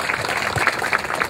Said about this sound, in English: This young lady needs a hand of applause, please